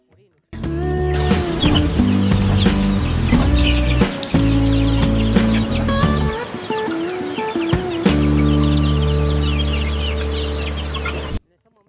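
Chickens cluck and squawk loudly and continuously at close range on a self-sustaining experimental farm, a dense overlapping chorus of fowl calls with a brief lull midway.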